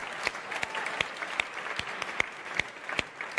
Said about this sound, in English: Oh, more round of applause.